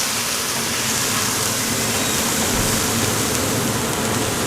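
A steady, full gushing rush of water, loud and unbroken throughout, like liquid being poured into a pan up close.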